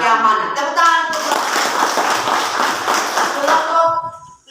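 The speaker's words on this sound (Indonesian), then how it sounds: "Tepuk tangan untuk" A classroom of students breaks into a burst of close, brisk clapping for a student group, lasting about three seconds between a few voices before and after.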